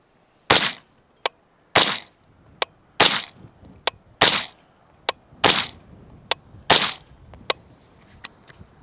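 Suppressed rifle shots from a 10.5 fitted with a SiCo Velos suppressor, six sharp loud reports at a steady pace, each with a short ringing tail and separated by fainter mechanical clicks, close, no talking.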